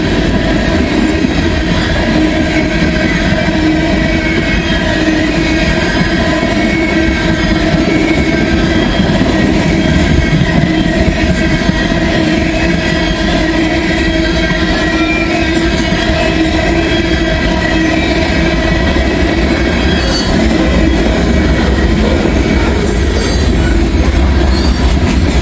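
A CSX freight train of boxcars passing close by, a steady loud rumble of rolling wheels with rhythmic clatter and occasional squeal over the whole span.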